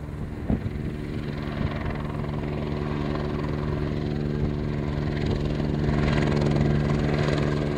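A firefighting helicopter drones nearby during a forest fire on the Serra de Montejunto, its rotor and engine producing a steady low thrum that grows slightly louder toward the end.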